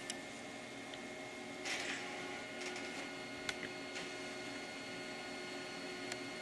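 An OKI Pro7411WT white toner printer runs quietly as it prints onto heat transfer film, giving a low steady hum with soft clicks and brief rustling bursts, fairly faint and without speech.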